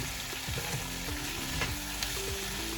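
Garlic and onions fry together in a pan for a Portuguese cebolada onion sauce, a close, constant sizzle with light stirring scrapes and no talking.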